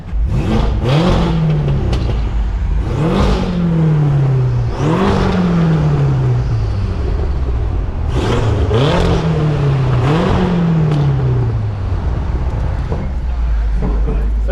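Tuned 800HP BMW M6 engine revving repeatedly on a New York City street, loud and close, with several sharp rising blips and falling exhaust notes in bursts, while people talk over it.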